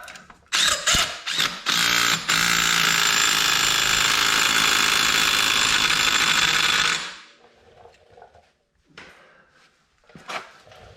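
Clutch bolt on a RZR ATV being tightened with a power tool, a loud continuous mechanical rattle lasting several seconds after a few short bursts, then stopping, with faint handling clatter afterward.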